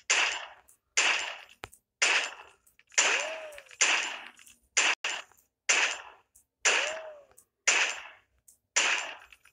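Gunshots in the mobile game Flip the Gun Simulator: about a dozen sharp, loud cracks spaced roughly a second apart, each with a short decaying tail, with a couple of rising whistle-like effects between shots.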